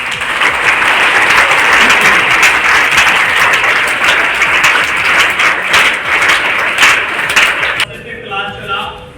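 Seminar audience claps in a long, loud, dense burst of applause that holds steady for about eight seconds before dropping off into quieter room sound.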